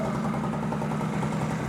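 An old Honda Spree two-stroke scooter that had not been starting idles in a garage with a steady, buzzing low drone and even vibration, no talk over it.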